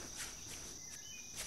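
Flies buzz in the video game Yuppie Psycho, a faint, steady insect drone that holds throughout with slight swells and no voices.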